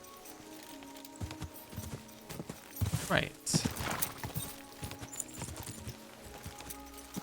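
Horse hooves clip-clop on the ground in Kingdom Come: Deliverance II as a horse walks near a mill, a steady irregular patter with louder steps midway, heard under a voice speaking briefly.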